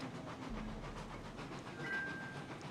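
A train rolls steadily along in the game RailRoads Online, a continuous low rumble with faint rhythmic clatter and a thin tonal squeal near the end, quiet and without speech.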